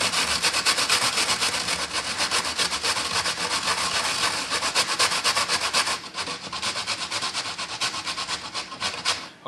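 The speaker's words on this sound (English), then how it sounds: "So here I'm just going to use the grater." Horseradish root is rubbed hard against a kitchen grater, giving a close, continuous rasping scrape in quick back-and-forth strokes, with a brief pause near the middle and no talk.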